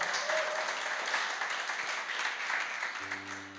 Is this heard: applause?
yes